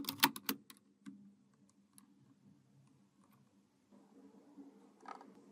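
Keys clacking on a computer keyboard while typing personalization fields into a form, a quick burst of sharp clicks at the start, then scattered faint taps over a low background hum, fairly close and quiet.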